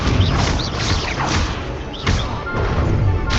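Spell blasts in the Hogwarts Legacy video game hit and explode in quick succession, a run of loud thuds, crashes and swishing whooshes over a busy combat din.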